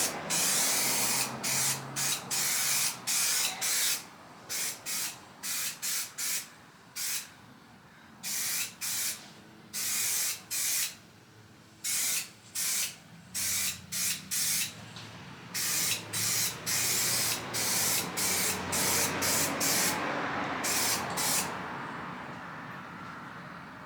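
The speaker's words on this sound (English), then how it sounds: "We'll start with the self-etch. Just going over bare metal." Spray gun laying self-etch primer onto bare metal on a VW bodywork project, heard as a long run of short, close hissing bursts in quick succession with brief gaps, steady and loud throughout with no voices.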